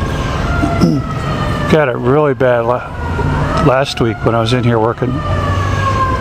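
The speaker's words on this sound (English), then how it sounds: "they probably hit me with at least 20, 30 sirens just like this" Wailing emergency vehicle siren on a Brooklyn street in New York City, rising and falling loudly in two bursts under someone talking, with traffic noise throughout.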